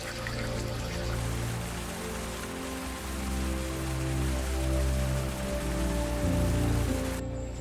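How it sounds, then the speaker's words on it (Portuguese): Roaring whitewater rapids in Tibet, a dense, unbroken wash of rushing water filling the whole clip, loud and close with no voices. "águas brancas, corredeiras violentas e trechos onde a água despenca metros em questão de segundos"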